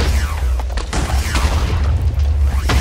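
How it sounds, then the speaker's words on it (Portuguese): Explosions in the Minecraft video game set off a rumbling run of booms. Dense, roughly repeated blasts and crackles fill the whole stretch at steady loudness. "E explode ali em cima."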